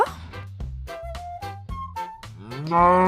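A cow lets out a loud, close, drawn-out moo that rises at the end, with rhythmic music playing underneath.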